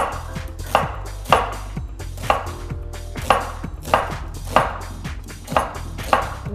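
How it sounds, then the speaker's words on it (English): Onions being chopped with a knife on a cutting board, a steady series of about eight crisp, evenly spaced chops up close, with no talking. "Now we're gonna cut some onions, and we're just gonna take the outer peel off."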